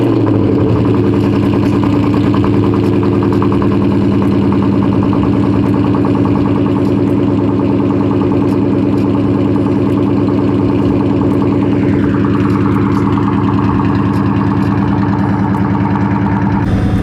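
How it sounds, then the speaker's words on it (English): A forced-induction V8 Ford Mustang GT cold-starts and settles into a loud, steady, rumbling idle, with a slight shift in engine tone near the end and no talking. "let's do a cold start"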